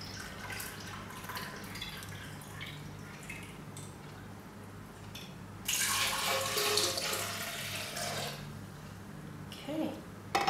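Coconut water poured into a banana caramel ice cream mix, a soft splashing pour that swells for a few seconds midway, heard faintly over a steady low background hum.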